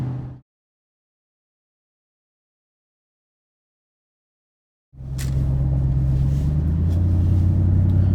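A supercharged Ford Lightning truck engine bursts in after a silent gap, droning loud and close with a sustained low rumble and a rising whine as it accelerates.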